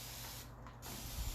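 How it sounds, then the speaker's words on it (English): A continuous spray mist bottle wets a Monet's Garden painting, giving a short, quiet burst of fine hissing spray in a still room. "we're going to wet the Monet's Garden with the continuous spray mist bottle"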